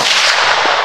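A loud, close AK rifle gunshot: one harsh broadband blast whose roar fills the whole short moment without any voices.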